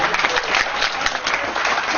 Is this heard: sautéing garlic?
no